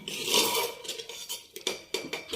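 Potatoes stirred in a pot of salted, chilli-spiced masala for a chickpea curry, a few scraping, clinking strokes of a spoon against metal, close and moderately loud with no talking.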